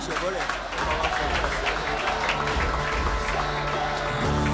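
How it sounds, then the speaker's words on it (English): An audience at an awards ceremony applauds the third prize winner with dense, ongoing clapping of many hands, a busy, crackling patter that runs throughout at a moderate level. "Give him a round of applause"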